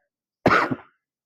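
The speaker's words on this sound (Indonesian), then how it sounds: "Ini saya agak batuk ya." A single short, sharp cough, close and fairly loud, then silence.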